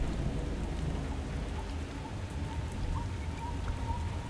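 Video game rain: steady, dense rainfall hisses evenly throughout with a low rumbling undertone, no voices, constant in loudness.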